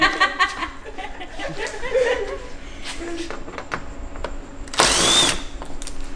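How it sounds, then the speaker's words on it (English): A power drill whirs in a short burst near the end, removing a bolt from a car, while people laugh and chuckle nearby before it. "you can't hold a drill and catch the bolt when it comes out"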